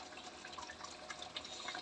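Water poured into a pot of rice for cooking in a home kitchen, a faint, continuous splashing and trickling stream with small bubbling droplets, heard close with no speech.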